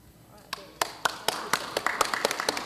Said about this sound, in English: So you will share our applause